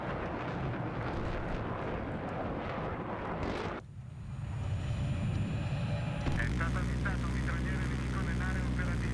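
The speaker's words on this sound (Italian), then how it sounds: "Ecco, lì c'è un aereo, raga." A video-game airplane gives off a steady, roaring engine drone, with an abrupt shift partway through, as a voice talks over the game sound.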